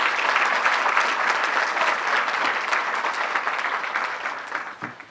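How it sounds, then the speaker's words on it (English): Breakfast audience at a Martin Luther King Jr. memorial event applauds a new mayor of Framingham, steady dense clapping that fades slightly toward the end, with no talk over it. "Let's give her another round of applause"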